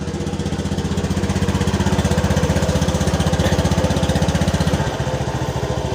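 A 2019 Honda Scoopy scooter, previously dead from a wiring fault, runs steadily with a loud, even, rapid engine putter close by, the rhythm shifting slightly near the end.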